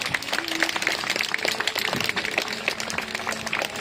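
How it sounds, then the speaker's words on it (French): Spectators applaud a falcon during a falconry flight demonstration at the Château d'Estaimbourg in Belgium, with lively outdoor clapping sustained throughout and scattered sharper claps standing out from the mass. "on peut l'applaudir bien fort"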